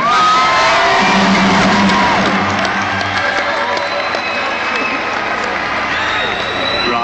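A large concert crowd at a show roars with cheers, whoops, shouts and clapping, loud and dense the whole way through, the noise easing off slightly after the first few seconds.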